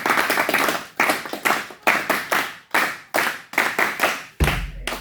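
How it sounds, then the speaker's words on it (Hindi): A group of students claps in unison at a school speaking session, sharp rhythmic bursts of hands repeating roughly every half second, close and loud, with a short pause near the end. "अपने लिए अपलॉड्स कर दो, तालियां बजा दो"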